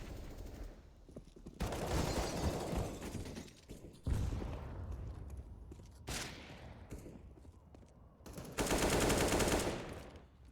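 Rifle bursts and automatic fire from a Counter-Strike match on the Nuke map at DreamHack Masters Spring 2020, with several loud bursts in quick clusters separated by quieter gaps.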